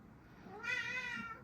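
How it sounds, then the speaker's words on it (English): A talkative house cat lets out one drawn-out, close meow that rises and then fades, with quiet room tone before and after. "He's just a really chatty boy."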